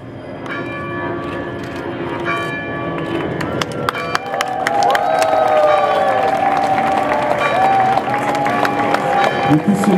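A congregation breaks into loud, sustained applause and cheering at the consecration of a new church in Pointe-Noire, rising to fill the space. Bells ring through the clapping, and voices can be heard in the crowd.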